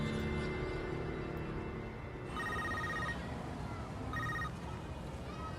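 A telephone rings in a tense kidnapping scene from a Kannada film, with short bright rings standing out over low background sound and some voices.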